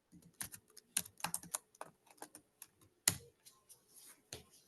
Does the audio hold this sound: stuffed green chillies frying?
no